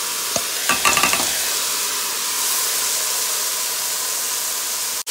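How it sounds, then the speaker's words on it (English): Rice being stirred into a pot of pigeon peas cook-up, a few scraping spoon clicks early on over a steady bright hiss of sizzling and steam, with no talking. "And I'm just stirring this up."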